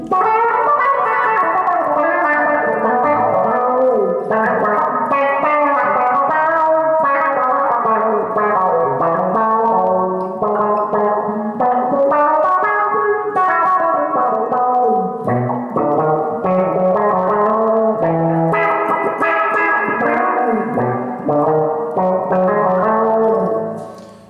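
An electric guitar played through an Electro-Harmonix Micro Q-Tron envelope filter in low-pass mode, with a muffled, rounded tone and notes sustaining into one another, steady and loud throughout.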